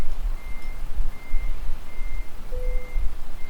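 Truck reversing beeps from Euro Truck Simulator 2, a steady repeating series of evenly spaced tones over a low idling engine rumble, fairly close and clear.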